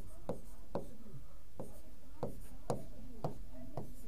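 A teacher writes on a board during a lesson, each short scratchy stroke landing in a loose rhythm of about two per second, close and fairly quiet against a faint room hum.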